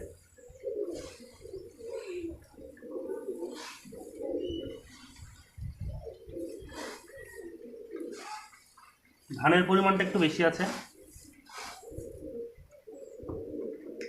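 Pigeons coo and call softly near a loft where rain-dampened birds are being fed grain, their voices mixed with someone talking steadily over them and rising into a louder burst of cooing midway.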